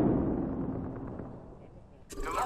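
Gunfire and explosive bursts from a battle in Apex Legends, a dense loud rumbling barrage that gradually thins out before a sharp new blast near the end.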